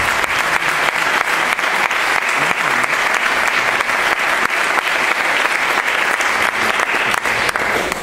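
Steady, dense applause from an audience at a political party candidacy presentation in Béjar, loud and continuous for about eight seconds with no voices standing out.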